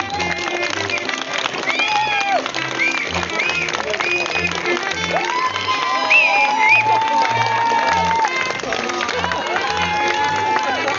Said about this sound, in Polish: Proszę Państwa, brawa nie powinny milknąć nawet na sekundę.